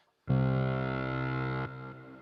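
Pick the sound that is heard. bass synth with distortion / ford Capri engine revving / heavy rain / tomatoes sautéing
bass synth with distortion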